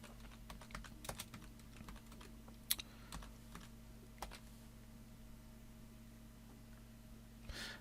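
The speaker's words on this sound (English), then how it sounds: "So if I go into the Etsy site and type book candle," Someone types a search into an online marketplace on a computer keyboard: scattered, irregular soft keystrokes with a few sharper clicks, close and quiet over a steady electrical hum.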